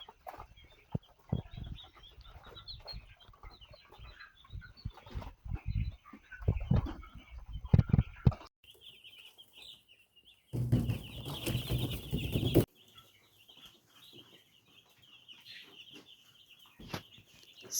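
Young broiler chicks in a brooder, a dense chorus of high peeping and clucking throughout, close and moderately loud, with a louder burst of shuffling noise partway through.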